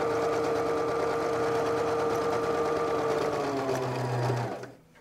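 A sewing machine stitching a seam, a fast steady mechanical whir running continuously up close before slowing and stopping near the end.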